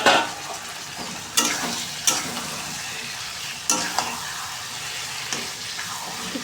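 Chicken pieces fry in spice masala that has been cooked until the oil separates, and they are stirred now and then. A soft, steady sizzle is punctuated by sharp clinks of the spoon against the pan.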